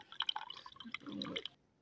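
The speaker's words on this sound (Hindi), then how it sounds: "अब इसे निकाल लूँगी सारा पानी और मक्खन जो है उसको देगची में ही" Water drains and drips off homemade butter in a cooking pot: a short burst of splashy trickling and dripping up close, ending after about a second and a half, with no talking.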